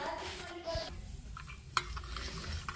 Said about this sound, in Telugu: సో జీడిపప్పు వేగుతుంది